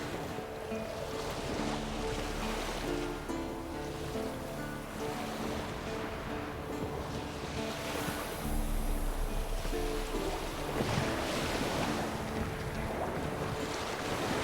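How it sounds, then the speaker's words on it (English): Sails flutter on a sailing boat in fog in The Witcher 3, a steady rushing wash of wind and water with flapping canvas that continues through the whole stretch without a break. "Sails fluttering."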